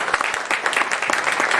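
An audience claps steadily through a religious gathering with Acharya Maharaj Shree Rakeshprashadji in Phoenix, USA, a dense, continuous patter of many hands close by with no voices over it.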